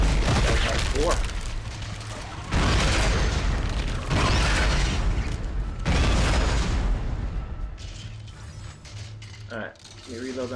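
Contact gun shots in the video game Dead Space come as several loud, heavy blasts and mechanical clanks that cut in and out, with dense game noise between them.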